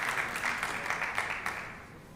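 A crowd at an artistic billiards European Championship final in Turkey applauds with a dense, steady wash of clapping that fades gradually toward the end, with no talk over it.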